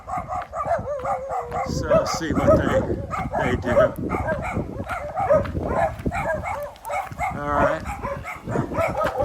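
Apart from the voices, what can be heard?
dogs barking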